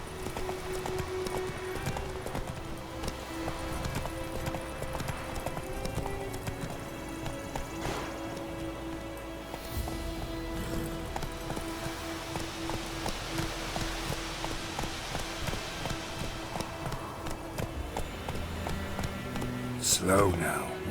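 Horse hooves in the video game The Witcher 3: Wild Hunt, a steady run of clip-clop beats with an occasional snort or whinny, someone talking over it and a rustle near the end.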